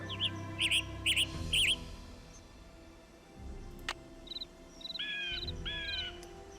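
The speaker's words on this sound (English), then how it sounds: "Western tanager." Western tanager calls in the Nancy Drew game Ghost Dogs of Moon Lake: clusters of short, bright, burry chirps in quick bursts, first three loud ones, then a sharp click and a softer run of paired notes over woodland ambience.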